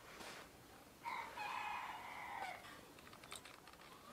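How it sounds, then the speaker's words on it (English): A rooster crows once in the distance, a faint drawn-out call, with light clicking and tapping nearby from a laptop being reassembled. "That's another rooster that started crowing."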